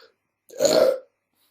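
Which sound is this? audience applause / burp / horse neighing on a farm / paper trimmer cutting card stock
burp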